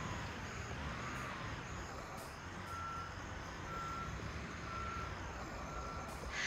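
A construction truck backs up in the video game Construction Simulator 22 with its reversing beeper sounding steadily, beeping at a regular pace over a constant engine rumble and no talk.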